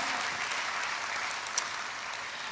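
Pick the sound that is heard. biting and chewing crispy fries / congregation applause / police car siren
congregation applause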